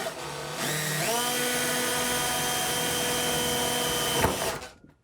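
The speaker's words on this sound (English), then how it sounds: "Just use a drill and drill a little hole." A power drill bores a small hole into a plastic toy, its motor whining up to a steady high pitch for several seconds before winding down.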